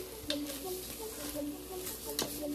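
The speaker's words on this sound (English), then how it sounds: "Now I'm about to stir" Rice with seasoning being stirred in a pan over a low stove, soft scraping strokes with a couple of sharper scrapes over a steady faint sizzle.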